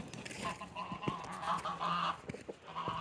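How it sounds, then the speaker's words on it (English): Farm geese honking near a house porch: a close, loud burst of nasal honks and cackles, several birds calling over one another in quick overlapping bursts for a few seconds. "I just got the geese off the porch."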